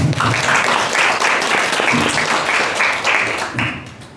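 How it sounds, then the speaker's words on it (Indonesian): Loud, close audience applause at a theater group's public discussion, dense rhythmic clapping from a crowd that carries on strongly before tapering off at the end. "kalau bisa tepuk tangan dulu dong"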